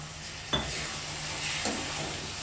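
Country mushroom masala frying in a kadai just after a little water goes in, a close steady sizzle with a couple of sharp stirring scrapes, no voices.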